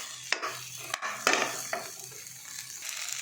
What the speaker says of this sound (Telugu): ఈ విధంగా కారం వేసి కలిపిన తర్వాత జీడిపలుకులు కూడా వేసుకొని బాగా కలుపుకోవాలి.